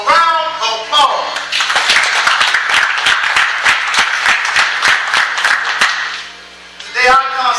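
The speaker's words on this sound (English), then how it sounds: "So please give yourselves a round of applause." An audience applauds and cheers at a community event, dense clapping running for several seconds before fading, with a voice talking briefly at the start and again at the end.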